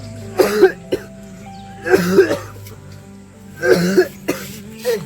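Close, harsh coughing in three main fits with a shorter cough at the end, over a faint steady hum.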